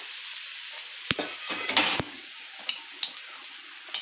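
Kalupattu batter of green gram flour and idli batter sizzling on a hot, lightly oiled pan, a steady close frying hiss broken by a few sharp clinks and stirring scrapes, with no voices.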